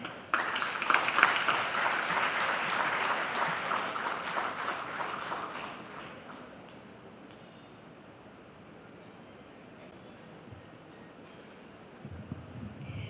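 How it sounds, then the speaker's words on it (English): An audience at a CA students' conference applauds with dense, loud clapping for about six seconds before it fades into quiet room tone, with a brief stir of sound near the end. "A huge round of applause and a very warm welcome to C.A."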